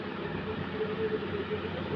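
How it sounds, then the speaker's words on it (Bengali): A steady low rumble and rolling clatter of a freight train approaching, continuous and fairly close, with a faint squeal riding over it. "তো চলো মালগাড়ি ট্রেন চলে এলো"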